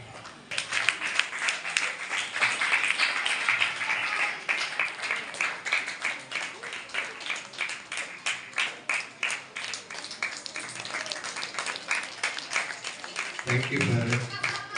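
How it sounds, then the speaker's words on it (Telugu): Church prayer-meeting audience clapping to honour a married couple, a long run of brisk applause with rhythmic surges, moderately close, with a voice and music coming in near the end. "ఇద్దరు భార్య భర్తలు చక్కగా వస్తూ కూడా గట్టిగా చప్పట్లు కొడదాం"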